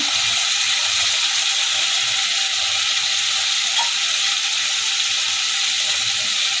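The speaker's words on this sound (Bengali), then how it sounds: "এখন এর মধ্যে মুগ ডালটা দিয়ে দেবো মুগ ডালটা ভাজে করে ধুয়ে নিয়েছি" Washed moong dal hitting hot oil in a pan for a Bengali lau dish gives a steady, close, broadband sizzle that holds evenly throughout with no talking.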